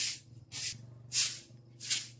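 Insecticide spray aimed at termites on a Philippine farm, four separate sharp hissing bursts in an uneven rhythm, each about a quarter second long, loud and close over a low steady background hum.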